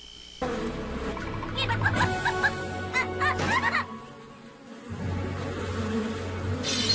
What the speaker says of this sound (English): Seabreeze loses control and crashes into a beehive